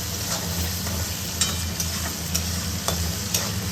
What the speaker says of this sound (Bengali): তো পেঁয়াজ ভাজা হয়ে গেছে আর ছোলাগুলো ভাজা ভাজা হয়ে